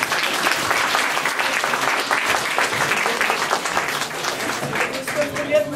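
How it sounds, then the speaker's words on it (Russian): An audience at a school's last-bell ceremony applauds, with dense, sustained clapping from a large crowd that stays loud and even throughout. "Сейчас им и достанется своя порция аплодисментов."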